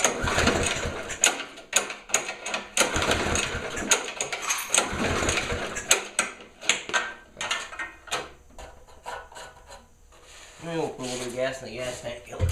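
A Murray lawnmower engine in a garage, sputtering with irregular mechanical rattles and knocks as it cranks and runs unevenly, close and fairly loud, with a voice talking near the end.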